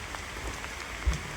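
Steady rain falls at Uparkot fort in Junagadh, a dense, even hiss of drops striking the ground nearby, with one soft thump partway through and no voices.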